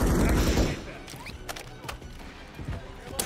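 An automated sentry gun fires in a heavy, loud burst at the start, then trails into scattered shots and thuds during a reactor mission in Call of Duty: Modern Warfare 3, with voices talking over the gunfire.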